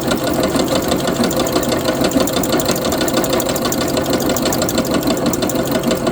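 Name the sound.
new label-making machine running at speed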